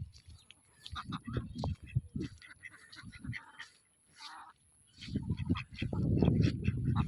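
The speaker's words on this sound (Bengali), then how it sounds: "আমার হাঁসগুলো অনেক বড় বড় হয়ে গেছে, দেখতেই পাচ্ছেন" Large farm ducks kept for sale, rain-soaked and resting, give a chorus of honking quacks in repeated bursts, swelling louder and denser toward the end.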